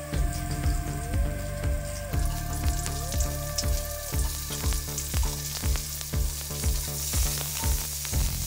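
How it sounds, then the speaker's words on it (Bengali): Onion frying in a pan alongside bitter gourd, a continuous near sizzle with a regular run of spatula scrapes and stirs, no voices over it. "পেঁয়াজটা দেওয়ার পরে আমি কিছুক্ষণ ভেজে নেবো আবারও।"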